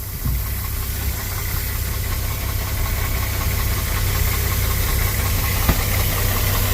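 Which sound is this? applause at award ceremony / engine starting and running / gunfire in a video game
engine starting and running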